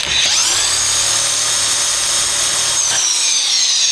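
Power tool gun winding an alternator from a 1989 Range Rover Vogue SE, its excite wire disconnected: a loud, steady high-pitched whine and drone running without pause, dropping slightly near the end.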